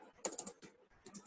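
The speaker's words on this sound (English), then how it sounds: "ignore me as I'm typing" Quiet, close typing on a computer keyboard during a project management webinar: a quick burst of sharp key clicks, a brief pause, then a few more taps, with no talking over it.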